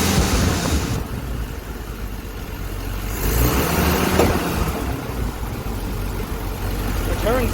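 A car engine fitted with a new Carter WO carburetor runs steadily nearby after a jump start, a low rumbling idle with slight rises in pitch, with a person speaking over it.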